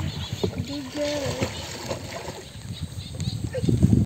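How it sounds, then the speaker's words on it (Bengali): A wooden boat is rowed on a village pond, giving soft, irregular splashes and water sloshing. Voices talk over it throughout. "এই যে পল্লব নৌকা বাইতেছে"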